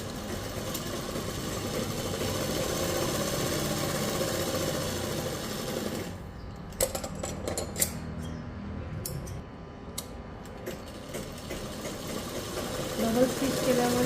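A sewing machine runs steadily while double-stitching a salwar, a continuous close whirring hum for several seconds before stopping, leaving scattered clicks and light handling noises.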